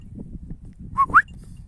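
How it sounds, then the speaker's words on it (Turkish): Two quick, bright bird chirps ring out in close succession on a farm, rising whistle-like notes heard over a low, steady rumble of background noise. "kuşlar."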